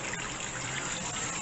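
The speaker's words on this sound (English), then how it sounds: "I'm going to turn the water on." Tap water running into a kitchen sink, a steady close hiss of flowing water holding even and unbroken throughout.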